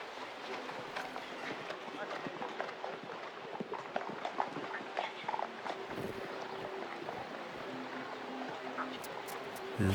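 Horse hooves on a show jumping course at a Grand Prix event, a quick run of clip-clop beats at middle distance under steady commentary and crowd ambience.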